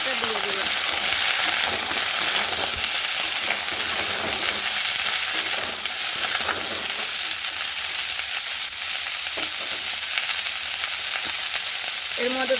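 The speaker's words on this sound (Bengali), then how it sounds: "কড়াই তেল গরম হয়ে গেছে, এর মধ্যে দেবো অল্প একটু কালো জিরে, দিয়ে কেটে ধুয়ে রাখা আলু, উচ্ছে, গাজর কেটে একসঙ্গে রেখেছিলাম সেটা দিয়ে দিলাম।" Potato, bitter gourd and carrot fry in hot oil in a wok with a pinch of nigella seeds. A loud, steady sizzle runs throughout, broken by a few utensil scrapes and stirs, with no talking.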